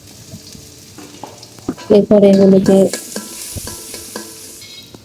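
Chopped onion sizzles in oil in a wok with some spoon stirring, and a loud metallic scrape rings out briefly midway. A person speaks a few words.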